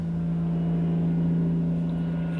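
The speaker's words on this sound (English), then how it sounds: "there's a plane going overhead making a noise" An airplane flying overhead, a steady low droning hum held throughout at moderate level with no talking.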